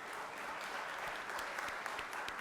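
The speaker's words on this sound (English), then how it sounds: "gave Miriam's family and friends a round of applause" Senators give a steady round of applause in the state senate chamber, a continuous wash of many hands clapping at a distance, evenly sustained throughout.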